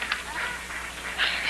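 Domestic ducks quack in a few short nasal calls, moderately close, over a steady low background hum, within a drama scene set around Whitehead Lake.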